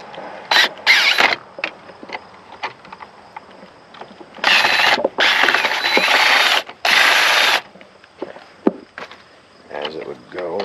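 Disassembling a security device at a firewood stand, with a bent screw: close mechanical clicks and ratcheting bursts from a driver, several sustained whirring stretches, with a voice heard briefly.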